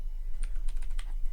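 Quick bursts of key presses on a computer keyboard while a Cisco switch trunk-port command is typed in Packet Tracer, a handful of light clicks clustered together over a steady low hum, close and fairly quiet.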